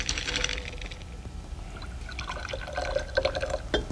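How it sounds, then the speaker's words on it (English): Blue liquid is poured into a glass, a bubbly splashing trickle with small drips and rising ringing glugs as the glass fills, close and fairly quiet. "you want to pour some of this blue liquid into the glass? About 2 or 3 centimeters."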